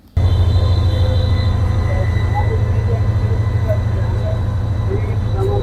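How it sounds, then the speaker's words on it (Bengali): A Tista Express train pulls out of Jamalpur Town Junction railway station in Bangladesh, a loud, steady low rumble of rolling wagons with faint metallic squeals and a distant hum, continuous throughout. "আমরা যে ট্রেনটিতে আসছিলাম তিস্তা এক্সপ্রেস, সেটা এখন ছেড়ে চলে যাচ্ছে"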